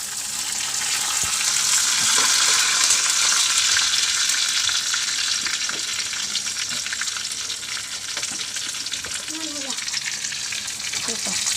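Sliced onions and curry leaves fry in hot oil for a fish curry, giving a steady, loud, close sizzle with faint stirring clicks throughout and no voices.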